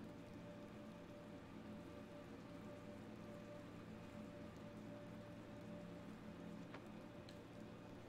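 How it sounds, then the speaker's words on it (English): Steady rain falls in the video game Little Nightmares II, a soft, even patter of drops on surfaces with a low ambient hum underneath and a couple of brief sharper ticks. "still raining."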